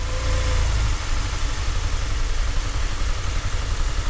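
A Subaru Forester engine runs steadily under load during an induction cleaning service, its low idle rumble dipping and bogging slightly near the start before settling into a constant drone.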